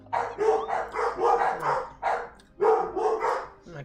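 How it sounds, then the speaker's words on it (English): Several excited dogs bark in rapid, repeated bursts, close and loud, with short yips mixed into a steady run of barking across the whole stretch. "those dogs are fucking freaking out"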